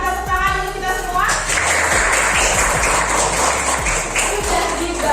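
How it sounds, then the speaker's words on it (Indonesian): A class of pupils claps together in a classroom, dense applause that swells after a moment and runs steadily to the end, with a few sharp, prominent claps standing out near the front. "Tepuk tangan dulu kita semua."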